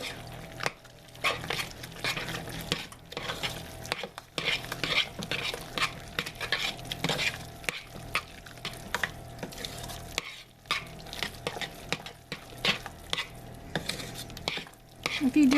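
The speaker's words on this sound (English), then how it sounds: "as soon as I put these eggs in here, we're gonna stir it really fast" Eggs are stirred quickly into a peanut butter bar mixture in a pot, with a rapid run of scraping and clinking strokes over a faint sizzle. The stirring is close and uneven, with brief pauses, and no one speaks.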